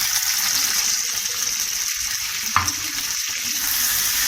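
Onions and small tomatoes sizzle steadily in hot oil in a pan for a potato and pea curry, a close, continuous frying hiss with one brief sharper crackle partway through.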